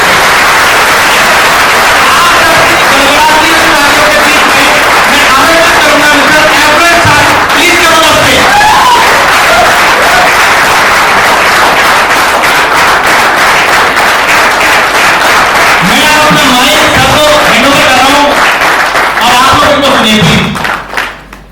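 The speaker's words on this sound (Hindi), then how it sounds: "आप सबकी जोरदार तालियों के बीच में एक बार ताली बजा के दिखाओ जरा" An audience at a storytelling event breaks into sustained, loud clapping that fills the whole stretch, with thumps and crowd noise mixed in, before cutting off abruptly at the end.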